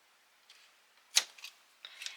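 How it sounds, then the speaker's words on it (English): Scissors snip through fabric rope for a denim rope bowl, one sharp, crisp cut followed by a few fainter clicks and snips in an otherwise quiet room. "I'm going to cut this at an angle."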